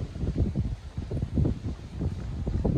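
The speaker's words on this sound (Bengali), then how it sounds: "দেখেন গাছের পাতাগুলো দেখলে বোঝা যায় কি বাতাস।" Strong gusts blow through tree leaves at an open-air sleeping platform. The wind rises and falls in low, rumbling surges that buffet the microphone, with a faint rustle underneath.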